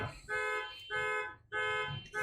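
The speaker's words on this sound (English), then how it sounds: "Can't control other people's alarms." A car alarm goes off nearby, a steady electronic tone repeating in pulsing cycles about every half second, moderately quiet and heard alone without speech.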